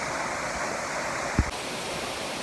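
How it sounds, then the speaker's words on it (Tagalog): Tusawan Falls, a waterfall about 30 meters high in Banico Park, pouring as a steady broadband rush close by, with a brief low thump near the middle. "home of the Tusawan Falls, or locally known Bungolanon Falls, which is approximately 30 meters high"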